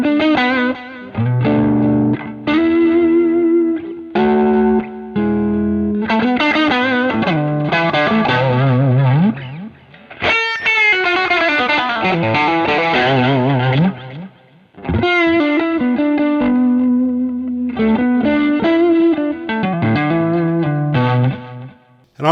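An electric guitar plays through a Marshall Bluesbreaker reissue amp with distortion, chords and melodic phrases ringing out with echoing delay and a reverb tail, loud and alone.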